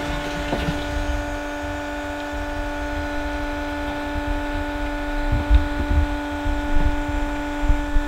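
A pump on a pig farm drives feed into a barrel with a steady droning hum and low throbbing pulses, close and continuous, with no talk.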